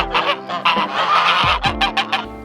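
Farm geese honk in a rapid run of loud, close nasal calls, several birds overlapping in bursts with no talking.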